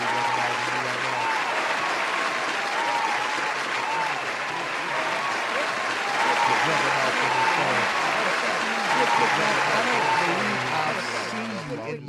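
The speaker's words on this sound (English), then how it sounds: "I'm gonna just go ahead and give you a round of applause" Steady, dense applause from a crowd fills the whole stretch, loud and continuous with slight swells toward the end, played back over a home livestream.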